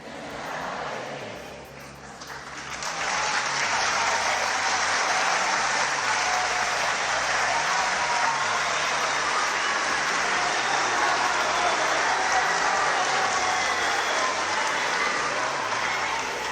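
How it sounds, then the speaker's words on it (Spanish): Audience applause at a spoken talk, starting quietly and swelling after a couple of seconds into a sustained, even wash of clapping that holds at steady volume for the rest of the stretch. "Le aplauden."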